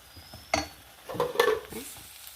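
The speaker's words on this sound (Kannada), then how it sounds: "ಅರ್ಧ ಮಸಾಲೆ ಹಾಕೊಂಬ ಸ್ವಲ್ಪ ಡ್ರೈ ಆಗುವಷ್ಟು ರೋಸ್ಟ್ ಮಾಡಬೇಕು" Masala roasting dry in a pan for sambrani palya, with short scraping stirs and a faint sizzle in quick bursts, close and quiet.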